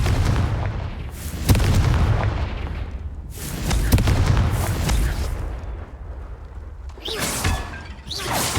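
Confringo fire spell blasts cast in Hogwarts Legacy, several loud booming explosions with whooshing bursts spread across the clip, roughly every couple of seconds, over a continuous game rumble.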